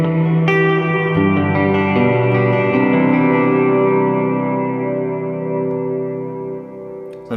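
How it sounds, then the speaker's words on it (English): An ambient worship-style electric guitar is played through a huge reverb effect. Sustained chords ring out loud and wash over each other into a long, shimmering tail, with no talk over them. "A nice big reverb sound, but again, not being so overpowering that you can't play on it."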